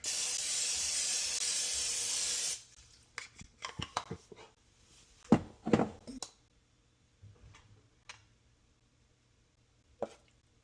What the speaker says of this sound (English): Spray some oil spray so it won't stick to the plate.